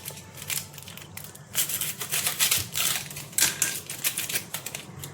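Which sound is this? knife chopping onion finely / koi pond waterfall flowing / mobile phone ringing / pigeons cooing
knife chopping onion finely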